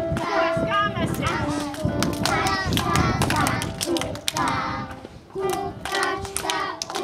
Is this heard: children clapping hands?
yes